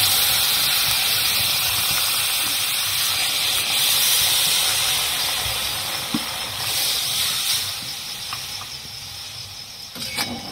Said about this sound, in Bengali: এবার একটু নাড়িয়ে দেবো, নাড়িয়ে তারপরে জল দিয়ে দেবো।